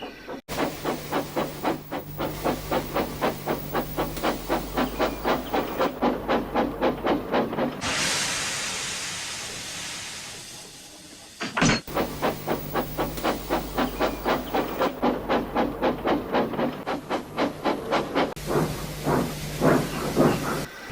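Two coupled steam engines working to pull heavy trucks: rhythmic chuffing beats fill most of the stretch, broken in the middle by a long, loud steam hiss before the chuffing resumes, with no speech.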